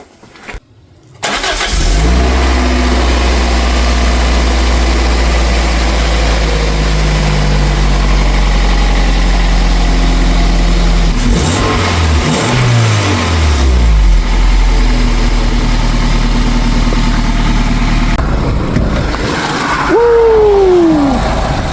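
A Toyota MR2 Spyder with a newly installed exhaust header cranks and fires up, then settles into a loud, steady idle with brief revs, heard up close with no talking.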